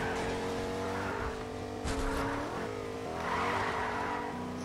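A car in the Fortnite video game drifts with a loud, sustained tire squeal over a steady engine drone, the squeal rising in two swells.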